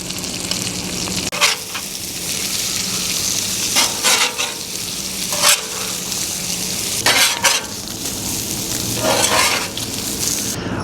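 Steady loud sizzling of smash burgers on a hot griddle, broken by several rough, bursting scrapes of a large metal spatula dragged across the surface, repeating every couple of seconds close by with no talking.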